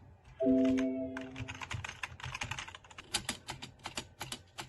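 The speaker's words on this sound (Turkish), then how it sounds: "Tuşlarımızın sesi gayet hoş ve güzel." Keys on a Preo MG51 gaming keyboard clicking in quick irregular bursts, close and crisp, after a brief electronic chime at the start.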